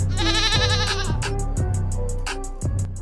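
Goat bleat in a sports betting podcast intro, sounding as a few loud, wavering bleats in quick succession with no talk over them.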